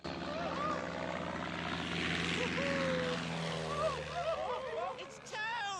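A small propeller airplane from Disney's Mr. Toad cartoon drones steadily and loudly, with cartoon sound effects and rising and falling whistling tones near the end.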